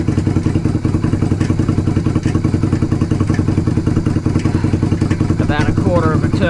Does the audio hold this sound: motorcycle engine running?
yes